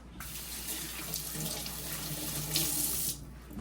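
Water runs steadily into the drain hose of a leaking Beaumark fridge during a repair, a continuous close, loud rushing flow with no talking.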